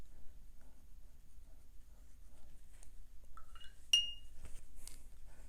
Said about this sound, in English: I'm going to rinse and dry off my brush